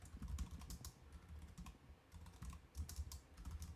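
Rapid keystrokes clatter on a computer keyboard while code is typed, a steady close-up patter of clicks in uneven bursts with no talking.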